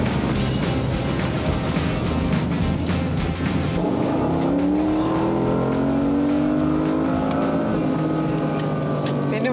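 New car's engine droning from inside the cabin while driving at speed, with a steady rumble, tones that rise and shift partway through, and road noise underneath.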